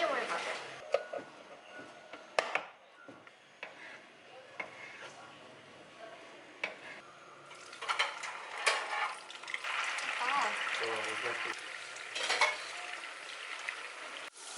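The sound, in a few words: tofu frying in a pan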